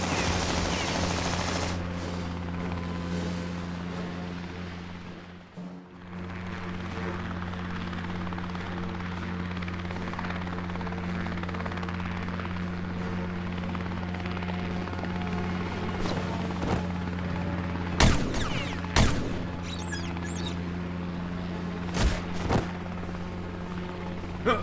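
A steady helicopter drone runs throughout a Lego Daredevil animated battle, heavy and continuous. A few sharp gunshot cracks burst out near the end.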